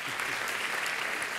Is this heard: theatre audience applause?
yes